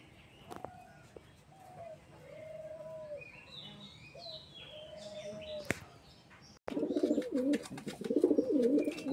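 A large male and female pigeon pair coo in soft, repeated drawn-out calls close by, then a louder, denser burst of cooing and fluttery noise takes over toward the end.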